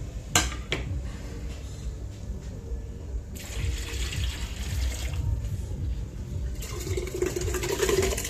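Rice poured into heated water in a cooking pot, with a couple of sharp metallic clinks at the start, then faint bursts of pouring and sloshing water in a quiet kitchen.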